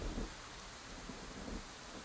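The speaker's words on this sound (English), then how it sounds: "You're outside. It's raining." Steady rain falling outdoors in the video game Scarlet Hollow, a soft continuous hiss with low rumbling underneath, faint and unbroken, no voices.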